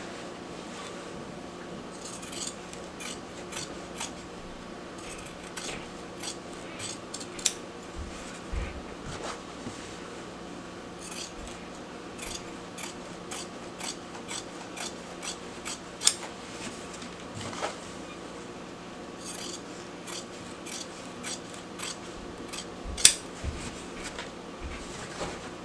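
Scissors snip through fabric seam allowance while a drawstring bag is being made, with many short crisp cuts spread irregularly across a quiet room, no talk.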